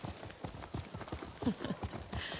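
Horse hooves clip-clopping while riding in the samurai game Ghost of Tsushima, a brisk, regular gait of close, distinct hoof strikes that continues steadily without a break.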